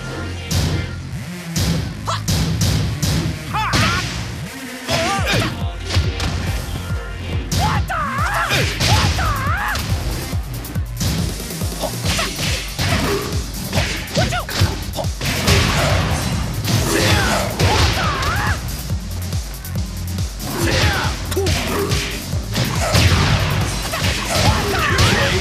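Tekken Tag 2 fighting with Forrest Law and Feng Wei: rapid strikes, smacks, thuds and swishing whooshes land in dense, irregular bursts over continuous game sound for the whole round.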